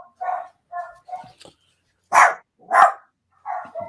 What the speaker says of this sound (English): Is that also a dog, or is there another animal there?